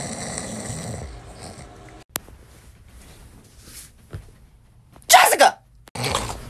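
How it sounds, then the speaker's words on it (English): A sleeping person snores, with quiet breathing followed by loud, rough snorts in two bursts near the end, alongside a voice talking. "You snoring again"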